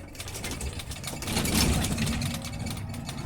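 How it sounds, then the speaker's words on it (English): A truck engine runs at moderate volume through double-clutch gear changes, its low rumble swelling briefly mid-way as revs rise, then easing back to a steady drone. "Double clutching every gear change, up changes and down changes."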